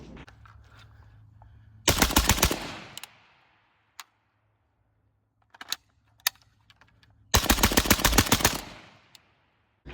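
Two rapid strings of rifle shots fired through a CAT WB suppressor crack out loudly, each burst about a second long with a fading tail, separated by quiet stretches holding scattered clicks and single faint pops.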